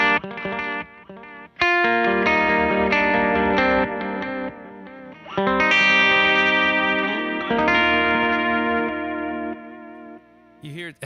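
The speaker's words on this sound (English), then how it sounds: "if I just turn up modulation by itself, it's not the same modulation as like the Timeline has" An electric guitar runs through the modulation effect of a Meris Mercury X pedal, producing sustained, wavering chorus-like chords and notes with a heavy, swirling character, close and alone.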